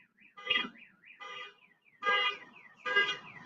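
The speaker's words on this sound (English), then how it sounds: "they're testing the alarm over there" A newly installed truck alarm is tested, sounding as repeated warbling, whooping electronic siren bursts at a steady rhythm, four cycles heard at a moderate distance, fairly faint and alone.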